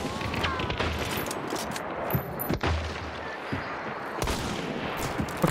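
Gunfire in the video game Hunt: Showdown cracks out in several sharp, loud reports spread across a busy, noisy background of game ambience.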